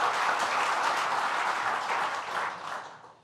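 Audience applause for the hometown mayor at a regional investment event, a dense burst of clapping that holds steady and then fades away over about three seconds.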